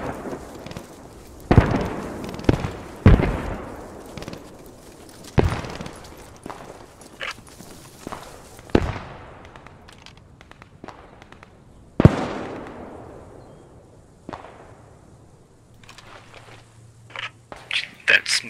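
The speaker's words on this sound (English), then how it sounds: "when this smoke barrage hits" Smoke barrage artillery strike in a sniper video game, a long string of scattered booming impacts, some near and loud, others dull and distant, each with a trailing rumble, with a voice speaking between them.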